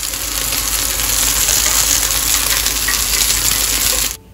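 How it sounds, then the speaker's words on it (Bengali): Marinated paneer sizzles steadily in a hot pan, a loud, continuous crackle and hiss that runs unbroken before cutting off abruptly at the end. "পনিরটা রাতেই কেটে ম্যারিনেট করে রেখেছিলাম, এখন শুধু ফ্রাই করে দিচ্ছি।"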